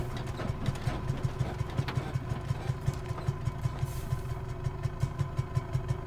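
Front engine of a Savoia Marchetti S.55 flying boat in Microsoft Flight Simulator 2020, running steadily with a low, rhythmic, pulsing throb that holds an even tempo throughout.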